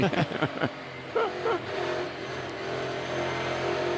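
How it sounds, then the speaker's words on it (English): A dirt race car engine during final practice at the 2022 Food City Dirt Race, throttle worked mid-corner: a steady, droning engine that wavers as the throttle varies, with brief talk near the start. "You hear Kevin, you hear him playing with that throttle in the center of the corner, trying to keep the point in that thing, keeping the nose pointed left"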